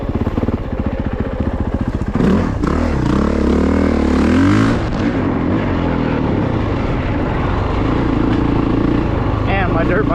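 A 450 dirt bike on dry hard-terrain tires rides a single track, its engine roaring close and continuous with shifting revs and rushing wind throughout.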